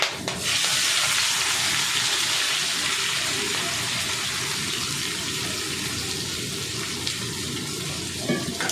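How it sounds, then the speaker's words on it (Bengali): Onions frying in hot oil in a home kitchen pan after whole cinnamon and cloves, with the gas flame turned up for a mutton dish; a steady, loud, close sizzle runs through the whole stretch without a break. "দিয়ে ভালো করে পেঁয়াজটা লাল লাল করে ভেজে নিতে হবে"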